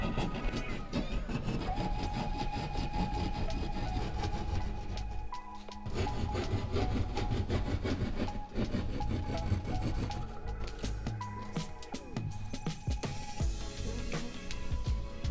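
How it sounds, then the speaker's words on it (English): A hand rock saw cuts into a drywall panel with close, steady back-and-forth rasping strokes that continue almost without pause, loud and gritty. "I'm using a rock saw, which are cheap and easy to make cuts into drywall."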